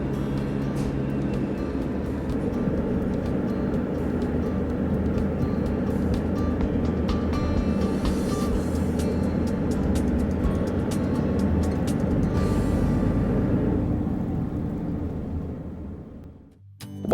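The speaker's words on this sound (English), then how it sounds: "Then Graham pulls the levers back to slow the 2 600 horsepower engines" Barge with two 600 horsepower engines throttling back as it glides beside salmon farm pens, a heavy steady engine drone that holds, then fades away at the end.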